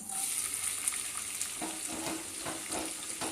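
Chopped onion frying in hot oil with cardamom and mace for egg biryani: a continuous close sizzle with soft stirring scrapes building in the second half.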